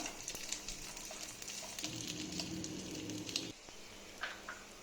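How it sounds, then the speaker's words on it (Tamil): Coconut pieces, cashews and raisins frying in a pan for Kerala adai payasam, a steady close sizzle and crackle with a denser hiss midway and faint scattered pops. "இது எல்லாத்தையும் நல்லா வறுத்துடலாம்."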